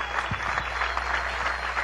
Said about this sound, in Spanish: Quiero darle un aplauso, nuestro reconocimiento, felicitación